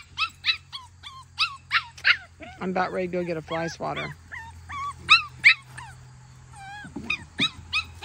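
Several seven-week-old Schnoodle puppies whimper, yip and bark in repeated high-pitched bursts close by, with someone speaking briefly over them and a steady low hum underneath.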